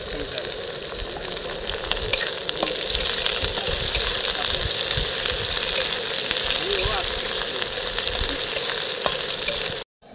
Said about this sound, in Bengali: এবার চিংড়ি মাছটা দিয়ে দিলাম পেঁয়াজের সঙ্গে ভেজে নেবো